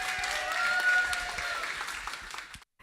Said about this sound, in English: Could we give her a round of applause, please?